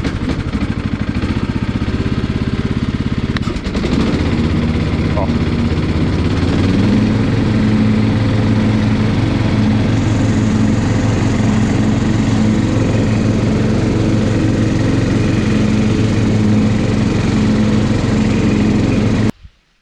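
A small lawn tractor with its mower blade engaged, engine running loud and steady close by, revving up partway through into a sustained throbbing drone with mechanical vibration, then cutting off abruptly at the end.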